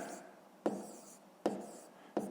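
Numbers are written by hand during a long-division exercise: three sharp pen or chalk strokes land at roughly even intervals over a soft background hiss.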